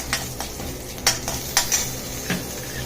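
Urad and moong dal frying and being stirred in a pan: a soft steady sizzle with several sharp scrapes and clinks of a spoon against the pan, spaced irregularly, close and moderately loud, with no talking.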